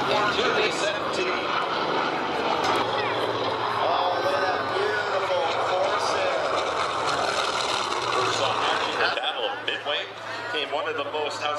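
Douglas Skyraider propeller aircraft at an airshow, a steady distant engine drone running under a commentator's voice, with crowd ambience throughout.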